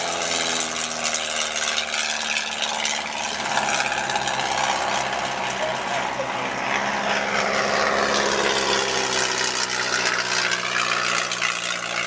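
Vintage Avro Tutor and Hawker Tomtit biplanes running their piston engines at a Shuttleworth air show, a loud, steady propeller drone with shifting pitch, close by and continuous with no talk.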